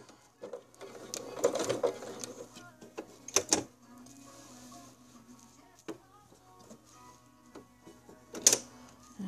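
A sewing machine stitches around the edge of a fabric Valentine's pot holder in short mechanical bursts with pauses and clicks between them, close and fairly loud.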